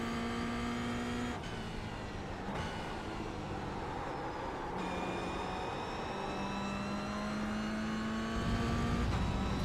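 A front-engine race car on slick tyres in the iRacing sim, its engine droning steadily with sharp pitch shifts as gears change, loud and continuous with no talking.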